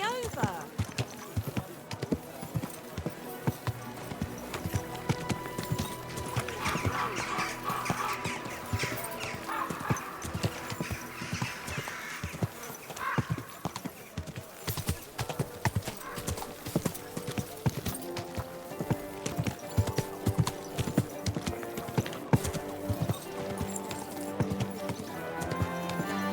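A horse in Kingdom Come: Deliverance II clip-clops with steady, rhythmic hoofbeats and lets out a whinny, while music plays and people talk alongside.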